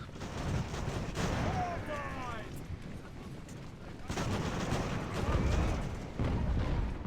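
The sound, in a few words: artillery fire in Ultimate Admiral: Age of Sail video game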